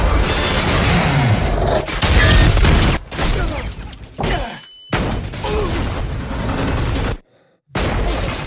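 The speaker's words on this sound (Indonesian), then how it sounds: "kebakaran dan ledakan pun tak bisa dihindari" Loud booming blasts and crashing debris from a film's Deepwater Horizon oil rig fire, with roaring bursts broken by sharp cuts into brief silence, like a cinematic explosion sequence.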